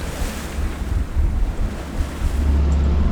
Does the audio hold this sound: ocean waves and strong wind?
yes